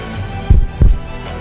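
Heartbeat sound effect from the Sakura School Simulator game, two deep, thumping low beats in a lub-dub pattern, close and fairly loud over a quiet background.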